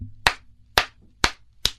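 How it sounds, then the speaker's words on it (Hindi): Four sharp hand claps aimed at a mosquito, evenly spaced and close, each a crisp smack standing alone against near silence. "आप तुरंत मच्छर को मारने के लिए"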